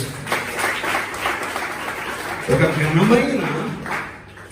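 A church congregation claps together during a Telugu Christmas sermon. The applause is a dense burst that fills the room, with a voice rising over it partway through before the clapping fades.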